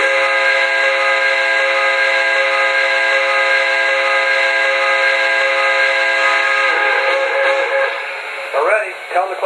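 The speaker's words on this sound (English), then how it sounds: "The first one is just pressing this whistle button, so let's do that now. And if you hold it longer, you'll get kind of a toot-toot sound at the end." Whistle sound effect from an MTH PS3 Pennsylvania K4 model steam locomotive, a long steady multi-tone chord held for several seconds before breaking into short toots at the end, loud and close.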